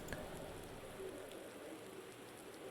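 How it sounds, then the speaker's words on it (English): Steady rain in the Automobilista 2 racing game during a 1960s championship race, a continuous soft hiss of drops pattering on surfaces, fairly faint and unbroken with no talk over it. "It's raining."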